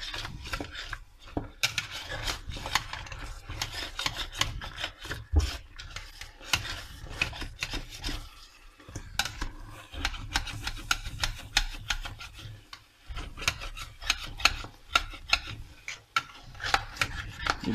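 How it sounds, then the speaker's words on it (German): A metal spatula scrapes browned roast residue from the bottom of a pan while making jus and vegetable stock, giving a steady run of rough, rasping strokes close by, with brief pauses and no talking. "Ich nehme jetzt kurz einen Pfannenwender, dass ich das unten besser ablösen kann."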